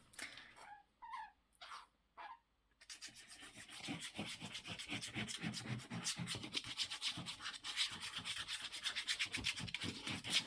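Glue being spread with a spatula across the page of a handmade Snowdrop Fairies journal: after a few brief scraping strokes and a pause, a steady, close rubbing and scraping continues, growing slightly louder.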